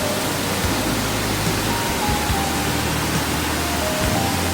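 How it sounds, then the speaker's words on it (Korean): Waterfall in Jomurak valley on Seokryongsan mountain, Gapyeong: a steady, dense roar of falling water fills the whole clip without a break, close and loud, with no voices. "보시면은 폭포가 하나 있어요."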